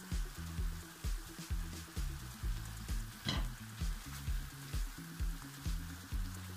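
Mushrooms fry in a pan with a steady sizzle, with soft stirring scrapes and a few brief clinks over a low, rhythmic background beat.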